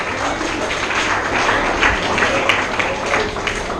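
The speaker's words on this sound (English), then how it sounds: "Give him a big clap." Students in a Grade 10 and 12 school classroom session in Tarapur, Mumbai clap for a classmate, a steady, dense wash of applause filling the room for several seconds.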